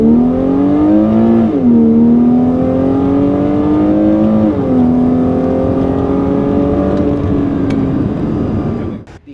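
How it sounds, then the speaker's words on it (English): A Porsche 987.2 Boxster base model with a PDK gearbox revs loudly and close, its engine pitch climbing, dropping sharply at a quick shift near two seconds and again mid-clip, then holding a steady drone before cutting off. "I really love the sound of the PDK on the upshifts as well as the downshifts."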